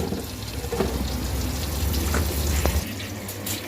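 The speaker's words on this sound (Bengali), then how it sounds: "এই জন্য আবার চপ ভাজতেছি" Chops sizzling in hot oil in a home kitchen, a steady close hiss and crackle that carries on throughout and then drops off near the end, with no talking.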